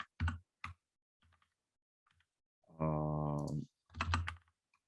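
Computer keyboard keys clicked in short bursts of typing, separated by pauses, with one longer loud buzzing tone midway; no talking.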